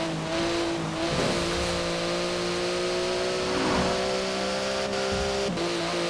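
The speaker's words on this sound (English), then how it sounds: "I want to go ahead and drive the Porsche now." A Porsche speedster's engine drones steadily in Forza Horizon 4, a sustained close whine that shifts pitch as it accelerates and shifts through gears, with faint tire noise and no talking.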